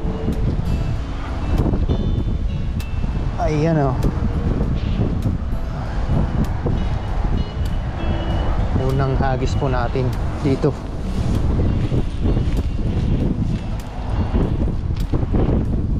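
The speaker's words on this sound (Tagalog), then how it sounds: "Sobrang hangin na po kasi." Strong wind buffets the microphone at a shoreline while net fishing, a constant loud rumble and roar with someone talking over it intermittently.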